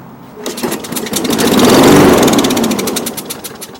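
A Toro lawn mower engine with a fuel problem sputters to life after carburetor priming, revs up to a loud rapid putter, then winds down and fades out.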